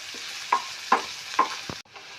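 Ingredients frying lightly in a pan for white sauce macaroni, a soft steady sizzle broken by three or four short scraping stirs before cutting off abruptly.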